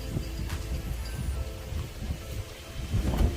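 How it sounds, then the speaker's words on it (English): Strong outdoor wind buffets the microphone throughout, a steady low rumble with gusts that swell louder near the end and no clear talk over it. "It's very windy out here."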